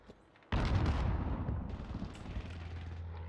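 A frag grenade goes off in a video game, one sudden loud booming blast that rumbles and slowly fades into a low hum, near and alone with no voices.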